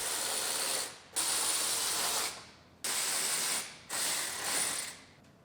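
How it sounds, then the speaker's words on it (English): A ratchet wrench unbolts the driver's side panel on a 2018 Ford Explorer Limited AWD under collision repair: three loud, close bursts of rapid metallic clicking separated by short pauses, with no talking. "I can unbolt the driver's side."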